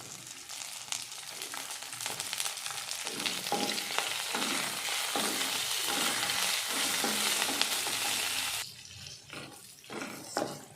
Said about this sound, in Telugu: సో ఫ్రై చేసుకుంటున్నాను. ఇప్పుడు ఎండుమిర్చి వేస్తున్నాను.